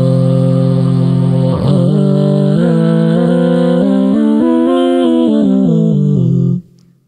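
A one-man band harmony vocal shifted up a fourth sings a sustained, stepwise melody of held notes that change pitch in sequence, loud and close with no talking, then stops abruptly near the end.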